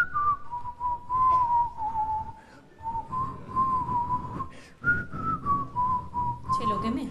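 A person on a Peruvian TV show whistles a song in a sustained, slightly wavering melody, moderately loud, with faint background murmur and a brief pause midway.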